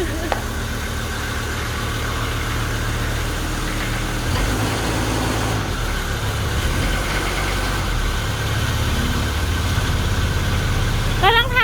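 Mercedes-Benz car engine running at a steady idle, a continuous low rumble with faint vibration throughout, close and fairly loud, without any clear revving.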